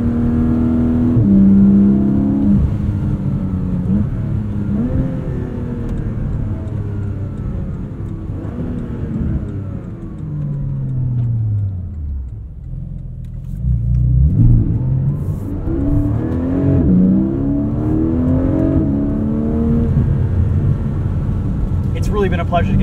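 A 2024 Porsche 718 Cayman GTS 4.0 with PDK, heard from the driver's seat with induction and exhaust right behind the cabin, revs up and down in loud, close, continuous surges that dip briefly before building hard again.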